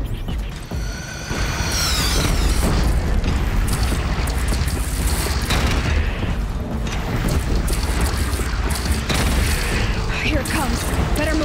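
Cannon fire from a platform during a battle in the video game Horizon Zero Dawn, heavy booms and rumbling blasts over dense, continuous battle noise, with characters speaking at times.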